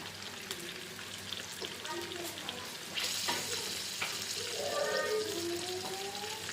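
Frozen fish frying in oil for a fish biryani makes a steady, fairly loud crackling sizzle that grows busier partway through, with faint spattering pops and a little background voice.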